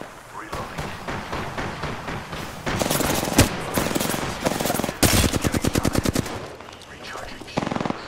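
Automatic gunfire in Apex Legends comes in quick rapid bursts, the loudest run rattling in fast regular shots. Speech sits faintly underneath and short pauses separate the volleys.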